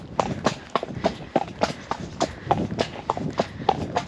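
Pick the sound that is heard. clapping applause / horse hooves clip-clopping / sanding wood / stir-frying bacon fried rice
horse hooves clip-clopping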